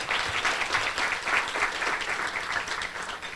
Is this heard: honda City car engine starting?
no